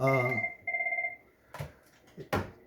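Telephone ringing during filming, heard as a bright, repeating electronic trill in two bursts, followed by a couple of sharp knocks or clicks in a quiet room.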